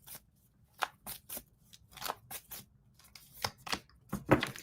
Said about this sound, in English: I just shuffled and again, High Priestess came out.